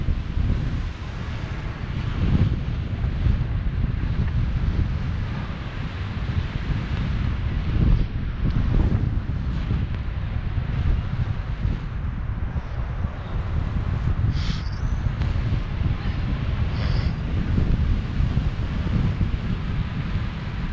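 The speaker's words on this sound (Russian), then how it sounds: "Сейчас очень хороший ветер." Steady, loud wind buffeting the microphone, a constant roaring rumble with gusty surges throughout and no voices.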